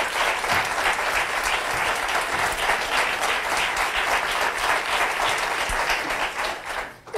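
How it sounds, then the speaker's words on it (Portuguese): Sustained audience applause after a sugar-art dress presentation, dense steady clapping from a crowd lasting several seconds before fading at the end. "com licença, um aplauso para a Mariana."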